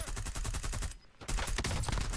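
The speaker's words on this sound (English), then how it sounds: "I hear some gunfire." Rapid automatic gunfire bursts in a Call of Duty Warzone solo match, loud and dense, with a brief lull in the middle before firing resumes.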